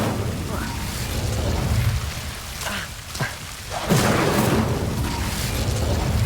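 Incendio fire spell cast in Hogwarts Legacy on Xbox Series X, heard as rumbling whooshes and booms that swell around the middle and stay over a dense layer of game ambience and effects.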